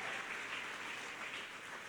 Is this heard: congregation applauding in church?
yes